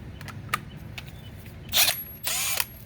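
A cordless Milwaukee or Kobalt right-angle impact wrench on a 3 amp-hour battery, driving a 22 mm 3/8-inch socket, fires two loud rattling bursts near the end after a few faint clicks and handling taps.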